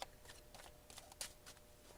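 A tarot card deck being shuffled by hand, a run of soft, quick riffling bursts in an uneven rhythm, closing with one sharper, louder snap of the cards.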